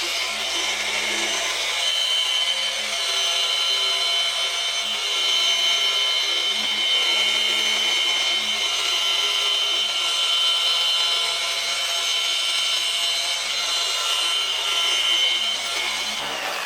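A polisher with a wool pad buffs the paint of a Piper M500 turboprop aircraft, producing a steady high whirring hiss with a faint motor hum underneath, continuous and fairly close, without voices.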